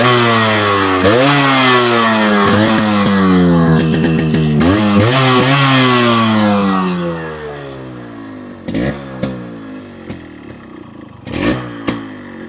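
A Yamaha RX100 two-stroke motorcycle, started with a single kick, revs hard with repeated rising and falling blips over a crackling exhaust idle. It sounds loud and close, then settles into a quieter idle punctuated by sharp throttle bursts.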